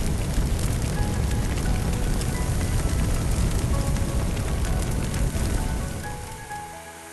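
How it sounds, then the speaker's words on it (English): In the game Firefighting Simulator, a fire hose sprays water in a dense, steady rushing hiss like heavy rain, close and loud for several seconds before tapering off at the end. "Grab a hose and put out the fire. Spray water by using the indicated button."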